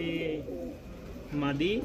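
Soft Rajshahi Giribaz pigeon coos close by, one short burst and then another after a brief pause, with low murmuring between them.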